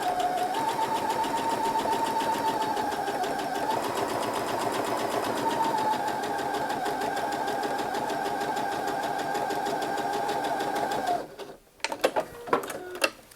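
A sewing machine stitches a seam on tapered-leg Pietra pants, running in a steady, fast mechanical whir for about eleven seconds before stopping, followed by a few short clicks and handling noises.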